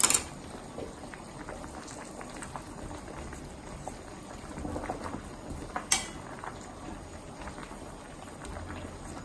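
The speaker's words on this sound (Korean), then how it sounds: "한 소끔만 더 끓여줄 거예요." An onion and meat braise simmers in a pot, a soft, steady bubbling hiss close by with a couple of faint clinks, and no talking over it.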